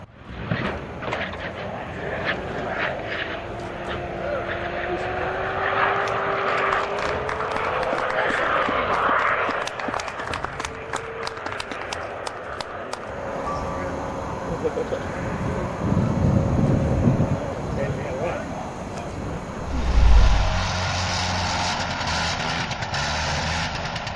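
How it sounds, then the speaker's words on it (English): A Beechcraft 1900 twin-turboprop making a belly landing, heard as a droning engine with scraping and rumbling as it slides along the ground, with people talking over it and a heavy thump near the end. "Beechcraft 1900, aircraft performed an impressive belly landing with 17 people on board"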